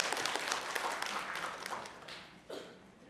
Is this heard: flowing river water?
no